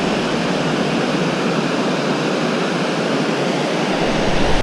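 The Bechler River in Yellowstone's Bechler Canyon rushes past in a steady, full roar of whitewater, loud and close, with no voices over it.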